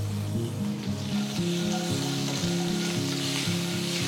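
Peanuts, asafoetida and curry leaves frying in oil for mango pulihora while being stirred; a loud, constant sizzle under a sequence of sustained tones, with stirring scrapes throughout.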